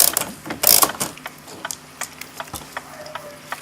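Mainsprings of a Gilbert kitchen clock are wound by key, producing close, loud ratchet clicks, a dense burst at first and then sparser single ticks of the pawl, over a faint low mechanical hum.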